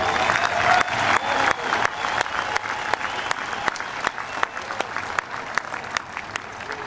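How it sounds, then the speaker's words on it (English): A crowd claps steadily and loudly throughout, dense applause with a few sharper claps standing out, fairly close and continuous. "Let's give them a round of applause."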